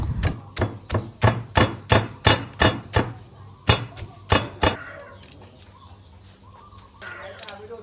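Steady rhythmic thuds of a pestle pounding curry ingredients in a mortar, about sixteen strikes, pausing briefly then resuming before fading into quiet background sounds.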